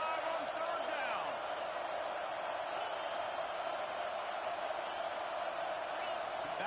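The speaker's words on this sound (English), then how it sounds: "The Buckeye crowd alive on third down." A large Ohio State Buckeye crowd roars on third down in a football stadium, a broad sustained wall of distant cheering that sits under a commentator's voice.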